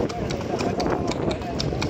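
Horse hooves clip-clopping as the horse pulls a bendi cart from Pasar Padang to Taplau, a quick regular rhythm of hoof strikes close by, under constant conversation.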